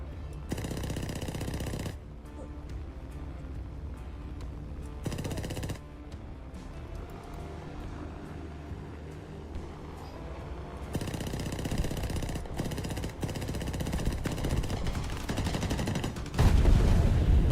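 Machine guns of a Spitfire float plane firing in War Thunder: long, dense rattling bursts, each lasting a second or more, separated by quieter stretches of steady engine drone, with the final burst loudest and closest.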